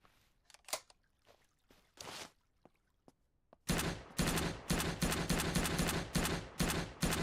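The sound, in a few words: automatic gunfire with tracer bullets in SurrounDead video game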